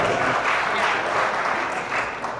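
Audience applause at a 2016 Silhouette summit presentation unveiling the Cameo 3 cutting machine, a steady, dense wash of clapping hands filling the whole stretch at close, loud level with no speech over it.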